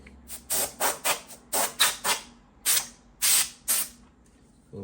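A spray can hisses in a quick series of short bursts, about a dozen sharp sprays with brief pauses between them, close by, while parts of a PS5 console are treated to prevent overheating.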